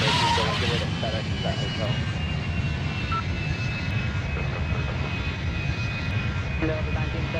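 Airliner engines roar steadily through a windy landing at a London airport, a loud continuous drone with a faint whining tone sustained throughout, while a voice speaks over it.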